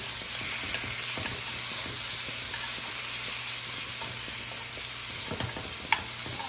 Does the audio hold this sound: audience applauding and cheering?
no